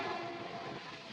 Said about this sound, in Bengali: ট্রেনটাই আমাদের ওভারটেক করলো। দেখো সেই ট্রেনটার সাথেই আমরা প্যারালালভাবে বেরোচ্ছি।